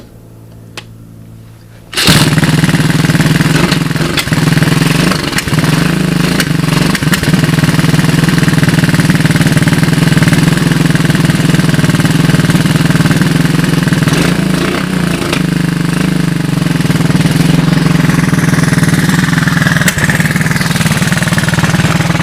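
A 1985 Honda ATC 200S three-wheeler, fired with a GY6 12V portable ignition, catches after a quiet first two seconds and runs steadily, loud and close, in a rough buzzing idle that holds for the rest of the stretch.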